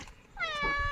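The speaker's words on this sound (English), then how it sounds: "That's our cat." A house cat gives a single drawn-out meow in the second half of the clip, close and fairly loud, with a low rumble of room noise underneath.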